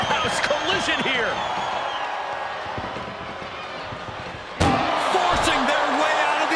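An ambulance door slams shut in the WWE 2K24 wrestling video game. One sharp, loud slam lands near the end, after a few softer thuds and scuffles, while a commentator keeps talking throughout.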